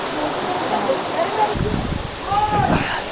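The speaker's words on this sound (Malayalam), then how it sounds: "അത്രയ്ക്കും തണുത്ത വെള്ളമാണ് വീഴുന്നത്" Jogini waterfall pouring icy cold water, a steady broad rushing roar with bursts of splashing, close and continuous, with voices talking over it.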